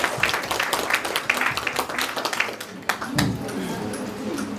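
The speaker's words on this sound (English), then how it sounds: "Let's clap for ourselves." Audience at a World Optometry Week gala dinner clapping in a steady, dense round of applause from many hands filling the room, with some voices mixed in.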